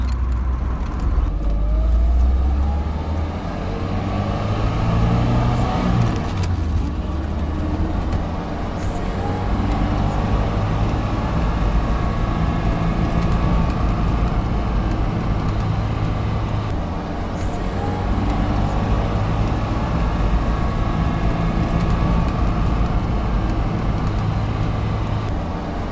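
A 1993 Alfa Romeo Spider Series 4 sports car drives along, its engine a steady, loud, low drone with road rumble that holds throughout, changing only slightly in pitch.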